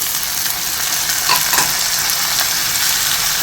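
Tomatoes, onion, garlic and green and red chilies sautéing in a pan with curry leaves for a traditional Chettinad dish, a dense, loud, continuous sizzle with a few faint stirring scrapes, close up and with no voices.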